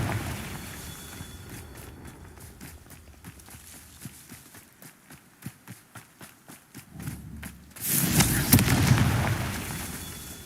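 A Confringo fire spell bursts in Hogwarts Legacy, preceded by a run of rhythmic footsteps; the blast arrives near the end as a loud, broad roaring explosion that swells and lingers.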